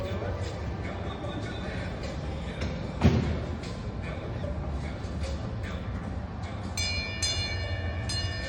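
A ride-on train rumbles steadily along with clacking and rattling, close and continuous, while people talk over it and a brief knock sounds partway through.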